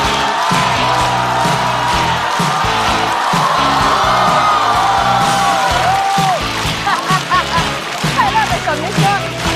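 A stand-up comedy show audience greeting comedian Xu Zhisheng: a loud, dense wall of clapping and cheering with whoops and shrill whistles rising through it, the crowd filling the room continuously.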